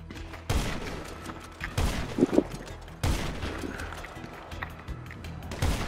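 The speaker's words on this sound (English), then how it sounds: "Shot fired." Video game gunfire from a special ops mission: sharp, loud shots at roughly one-second spacing, each with a booming low tail, with a few crackling bursts in between over steady background noise.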